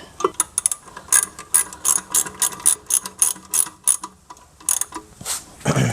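A hand ratchet clicks steadily in repeated short strokes while tightening 17 mm rear brake caliper bolts on a Lexus GX470 fitted with GX460 calipers, close and clear with a brief pause near the end.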